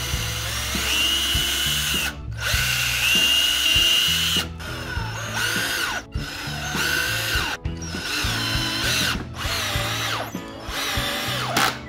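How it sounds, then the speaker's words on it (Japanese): Power drill boring pilot holes in wood while building a DIY sunken table inside a kei car camper, with loud whirring bursts separated by short pauses. "先に下穴を開けとかんとうまくはまらない場合があるんで"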